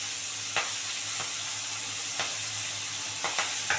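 Spring onions and green chillies fry in hot oil in a pan, giving a steady, soft sizzle. A few faint clicks of stirring sound through it, and no one talks.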